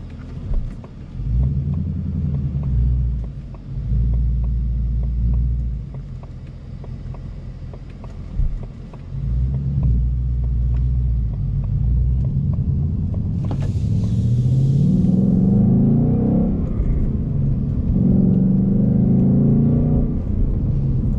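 A Ford Mustang GT engine heard from inside the car, its deep rumble swelling in repeated rev-match blips during downshifts, then climbing steadily under acceleration, with wind noise over the microphone.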